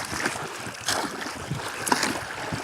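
Oars stroke the water as a small boat is rowed along a river during a fishing float trip; soft, evenly spaced splashes and swishes about once a second over a quiet watery background.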